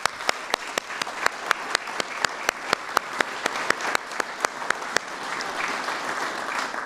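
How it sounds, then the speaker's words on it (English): An audience gives a round of applause for law enforcement officials at a panel event, a crowd clapping in a steady, fairly close rhythm that thins out near the end. "I want to give them a quick round of applause."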